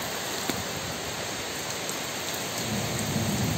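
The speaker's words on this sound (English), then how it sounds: "a while ago the rain started." Steady rain falls as a dense, even hiss that holds at a constant level throughout, with a faint low rumble underneath. No voices are heard.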